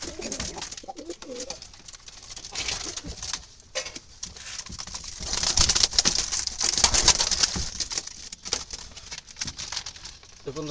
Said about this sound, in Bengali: এটি একটি খয়েরি জালালি কবুতর।